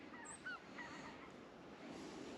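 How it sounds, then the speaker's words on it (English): Snow geese and speckle-bellied geese calling high overhead, a few faint, scattered honks and cackles drifting down over a quiet outdoor background. "Here's some snow geese and speckle bellies."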